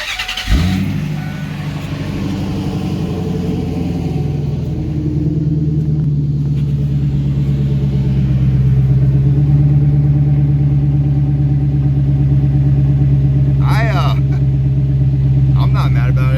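A 2001 Ford F250 4x4 with a 5.4 V8 and a deleted muffler cold-starts with a sharp crank, then settles into a loud, deep, rumbling idle close by that holds steady and swells slightly.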